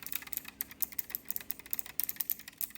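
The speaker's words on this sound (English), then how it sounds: "I don't want the clickiness of this, the blue keys here." Rapid, dense typing on a Keychron K3 keyboard fitted with clicky blue switches, producing sharp, bright key clicks in an uneven rhythm, close and alone with no voices.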